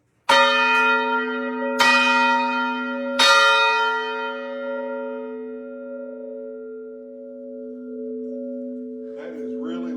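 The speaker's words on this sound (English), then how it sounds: "This bell is 120 decibels in this room" A large bell in a clock shop struck three times in quick succession, each loud clang followed by a long ringing hum that slowly decays, with faint voices near the end.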